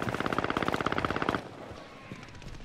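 A light machine gun in a video game fires a fast, loud, evenly spaced burst for over a second, then cuts off to quieter game ambience.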